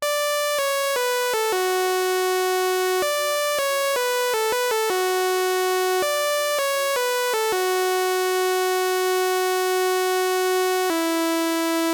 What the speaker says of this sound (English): if you don't have Dune 2, this is literally just a saw wave.